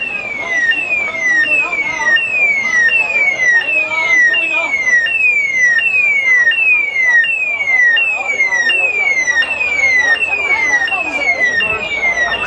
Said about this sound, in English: The alarm inside the hotel.